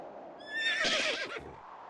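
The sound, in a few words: horse neighing in a video game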